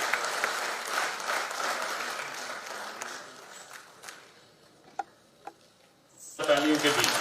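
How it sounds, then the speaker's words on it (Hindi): Applause at the closing ceremony of a national road safety month event, a sustained crowd clapping that fades to a few scattered claps before swelling again at the end. "तालियों के बीच"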